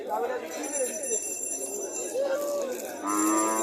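A Haryana cow moos at a livestock market in Comilla, Bangladesh, a couple of drawn-out lowing calls heard fairly close, with people talking around it and a faint bell or clink in the background.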